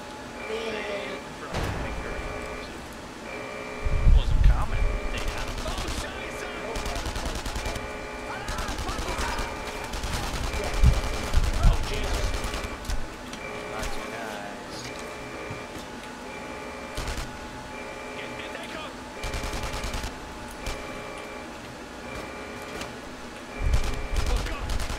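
PPSh submachine gun with a stick magazine firing in the video game Enemy Front, repeated bursts of rapid automatic fire scattered through the clip amid game music and other battle noise.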